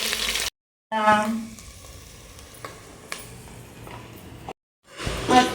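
Onions frying in oil in a pan for a chicken tamarind curry, a steady close sizzle with light stirring clatter, broken by short silent gaps at the start and near the end.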